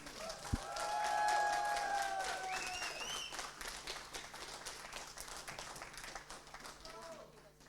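Live esports event crowd applauding its Rocket League teams, a loud sustained wash of clapping and cheering that swells early and slowly fades, with a voice talking over it.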